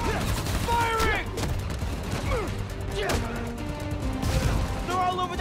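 Rapid bursts of gunfire in the Spider-Man: Miles Morales game, crackling in a dense, continuous volley over a busy rumbling backdrop with whooshing effects and a voice speaking through it.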